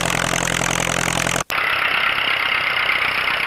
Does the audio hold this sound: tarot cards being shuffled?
no